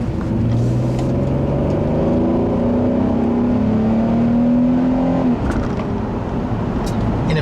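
A 2012 Mazda6 GT sedan with a V6 engine accelerating on a test drive, its engine note climbing steadily in pitch through a long gear before a shift, then continuing under road noise.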